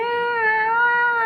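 A human voice imitates a cat's long, drawn-out meow, one sustained tonal wail held close and loud without a break.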